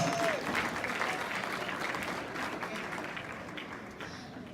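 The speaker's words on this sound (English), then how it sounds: "Y'all can clap for that, because that's amazing in college" Crowd at a Houston Rodeo committee speech breaking into applause, a dense wash of clapping that starts loud and slowly fades over a few seconds, with no words spoken.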